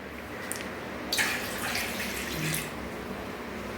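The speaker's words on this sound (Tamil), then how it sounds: "தண்ணி கொஞ்சம் ஊற்றிக்கலாம்" Water is poured into ragi porridge while sugar and milk are being added, giving a short splashing pour that starts with a brief drip and then runs for about a second and a half at close range, fairly quiet, with no talk.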